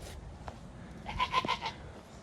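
A goat gives a single short, wavering bleat about halfway through, fairly close and clear over low background noise.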